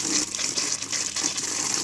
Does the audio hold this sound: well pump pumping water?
yes